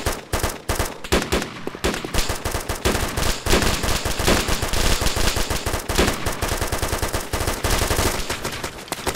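Bursts of PKM machine gun fire during a jungle combat exchange, several weapons firing at once in rapid, overlapping volleys that stay loud and dense throughout, with sharp cracks and echoes and no pause.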